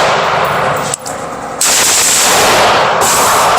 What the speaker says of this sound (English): Now we'll shoot a little bit faster and burn it down a little bit.